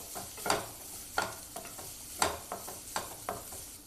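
Capsicum sautéing in a pan for egg paratha, with repeated scraping stirs of a spatula over a soft, steady sizzle, close and moderately loud.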